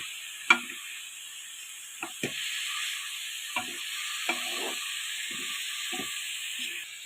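Grated spinach being stirred in a frying pan for palak coconut rice, a steady hiss and sizzle with several spaced scraping strokes of a spatula, close by.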